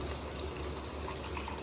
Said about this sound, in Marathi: गरम पाणी टाकायचंय.